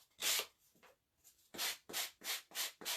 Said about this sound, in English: Just use my sanding block.